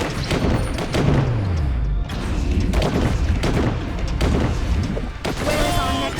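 Soldiers fire a volley in The DioField Chronicle, a series of booming, thudding shots under a continuous loud battle soundscape, with repeated heavy impacts spread across the few seconds.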